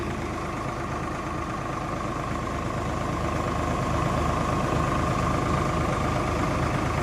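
A tractor engine runs close by, pumping water through a pipe into a canal, idling in a steady, unbroken low rumble that swells slightly as the accelerator is pressed.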